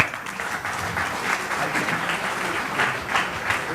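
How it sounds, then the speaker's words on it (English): Members of a Rotary Club audience applaud Anand Mahindra with steady, dense clapping from a room full of people, lasting several seconds without talk. "round of applause for Anand before he..."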